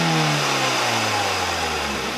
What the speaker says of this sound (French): Donc, on démarre.